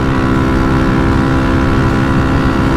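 A loud, steady A1-class motorcycle engine rumble drones continuously at close range, deep and even throughout.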